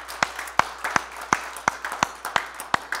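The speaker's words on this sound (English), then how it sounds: "Give the Lord a hand clap." Church congregation clapping along in a steady rhythm, sharp hand claps landing roughly every third of a second, fairly close and distinct over a quiet room with no talk.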